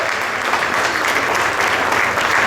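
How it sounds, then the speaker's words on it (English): Dense, loud applause fills the space continuously from a large crowd at the 45th Annual Toronto Rath Yatra festival, steady and sustained without breaks. "Another round of applause, please"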